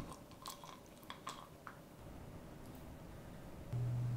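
A young female puppy chews on something close by, with soft wet gnawing and occasional crisp clicks at the start that give way to a quieter, steady hiss.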